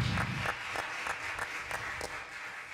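A church congregation applauds, giving a continuous, fairly soft wash of many hands clapping with faint rhythmic accents, without speech.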